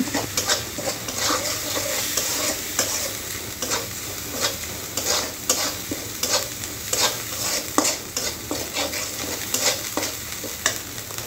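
Pointed gourd cooked with paste, chili, turmeric and coriander powders and salt is stirred in a hot pan, with steady frying sizzle and repeated scraping strokes throughout.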